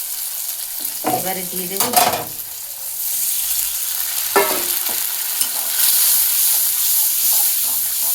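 Ground turmeric, chili, cumin and coriander powders being stirred and fried in oil in a pan, with a soft steady sizzle and hiss, bursts of scraping stirring near the start and middle, and brief talk in between.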